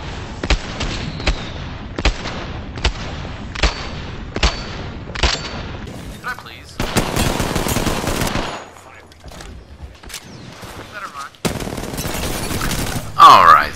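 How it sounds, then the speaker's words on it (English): Gunfire from a full magazine in the video game Apex Legends, a rhythmic series of sharp shots followed by sustained bursts and scattered cracks, loud and close. "Coming up here in a few seconds is a full magazine."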